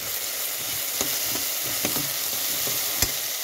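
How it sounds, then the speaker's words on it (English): Onion with a pinch of salt frying in a pan on reduced heat, a constant dense sizzle with a few sharp spatula taps as it is stirred, close and steady. "I have reduced the heat and I am still stirring the onion."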